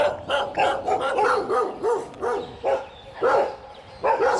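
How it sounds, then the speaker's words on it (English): Several dogs in a village bark repeatedly, close and fairly loud, in quick overlapping bursts with occasional yips. "So when one pack of dogs bark, the rest bark"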